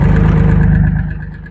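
A JT5WL800 wheel loader's diesel engine runs with a loud, close, rhythmic chugging, then it settles and fades toward a softer idle in the last moments.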